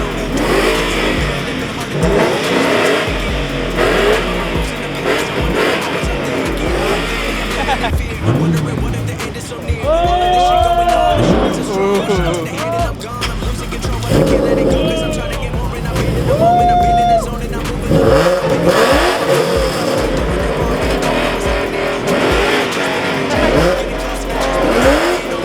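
Police car spins donuts at a car meet, its engine revving hard and tires squealing in long wavering shrieks, loud and close, with a crowd shouting and talking throughout.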